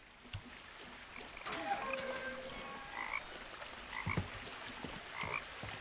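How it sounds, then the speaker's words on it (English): Frogs croak in scattered bursts against a quiet, damp ambience in a video game, with occasional soft splashes and low rustles. "I hear frogs."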